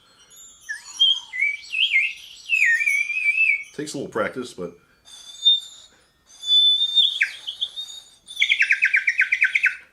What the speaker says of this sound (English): I got these little terracotta bird whistles.